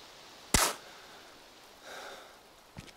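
A single sharp gunshot in DayZ rings out once, loud and close, aimed at a helmet, followed by a softer hiss and a faint click near the end.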